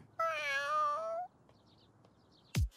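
A cartoon cat gives one drawn-out, clear meow up close, followed by quiet and then a sudden short whoosh.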